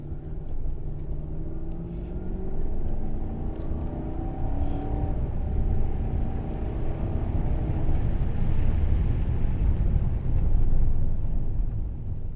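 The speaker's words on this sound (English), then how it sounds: "let's give it a brake test down here." Steady low rumble of a 2001 Toyota Celsior (Lexus LS430) slowing under braking on the road, continuous engine and tyre noise with a gentle swell near the end, no talking.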